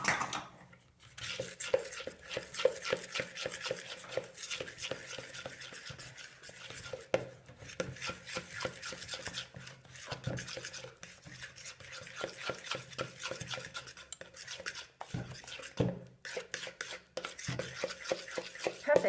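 Kaiserschmarrn pancake batter is stirred in a bowl with quick, rhythmic scraping and clinking strokes that repeat steadily and fairly close for a long stretch, with no talking.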